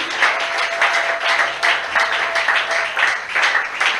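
A church congregation at an evening prayer seminar applauds to acclaim Jesus, with dense, sustained clapping from a crowd and faint voices mixed in throughout.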